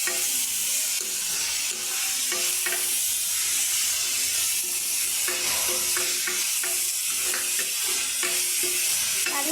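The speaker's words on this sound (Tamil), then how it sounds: "இப்போ கிண்டி விட்டுக்கோங்க." Cabbage, capsicum and corn sizzle loudly in a hot frying pan while being stirred, with steady crackling and the repeated scrape of a spoon against the pan throughout.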